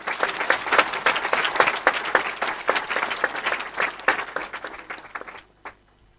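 A church congregation at a healing and deliverance testimony service claps in sustained, dense applause that carries on for several seconds, then quickly dies away to near silence.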